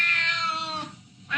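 A person imitates a cat's meow, giving one drawn-out, nasal, rising-then-falling call followed by the start of a second, close and fairly loud.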